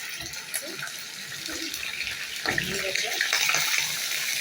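Pieces of lemon-dressed liver, Alexandria style, slide into a hot pan of oil and start a loud, steady frying hiss that swells after a couple of seconds, with faint clatter underneath.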